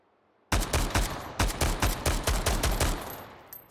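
Gunfire in the VR game Hot Dogs, Horseshoes & Hand Grenades, a sudden string of about a dozen evenly spaced, loud close shots in a steady rhythm, ending abruptly with no talk.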